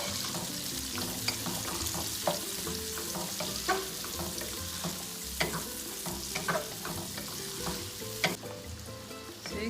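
Onions sizzle in a pan for pork laing, frying loudly and steadily while a utensil stirs them with intermittent clicks and scrapes.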